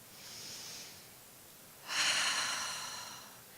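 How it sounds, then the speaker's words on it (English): Two breaths from a speaker on a stage talk: a soft inhale, a pause, then a louder, longer deep breath out, close to the microphone with no words spoken. "so take a deep breath with me."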